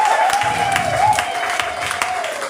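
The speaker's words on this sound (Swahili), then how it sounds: "Makofi tena." Church congregation applause rolls on under a sustained voice or hum, the clapping dense and steady with a few sharper peaks, while a person can be heard over it.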